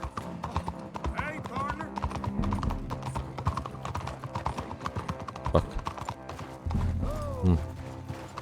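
Horse hooves clip-clop in the Red Dead video game in an irregular string of close hoofbeats, mixed with a horse's snorts and neighs, under steady conversation from people talking.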